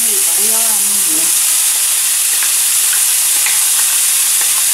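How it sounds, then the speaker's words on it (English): Peppers and onions sauté in oil heated to medium, giving a loud, constant hiss and sizzle close by, with a few light stirring ticks and a faint tonal sound at the start. "So we're going to saute the peppers and the onions."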